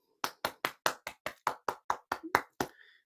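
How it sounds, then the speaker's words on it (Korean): On a metaverse healing talk show, about a dozen sharp, evenly spaced hand claps welcome the guest, close and dry like a single clapper, trailing off with a faint short tone at the end. "여러분 박수 좀 부탁드릴게요"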